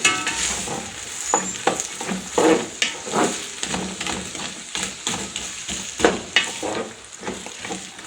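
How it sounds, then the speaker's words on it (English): Vegetable rice with green peas and green capsicum stirred in a pot, a spoon scraping and turning the mix in repeated strokes over a steady frying sizzle, close and clear, with no talk. "green peas, and then green capsicum. Yeah, like that. And then stir."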